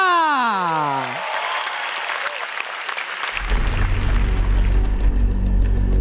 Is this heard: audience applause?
yes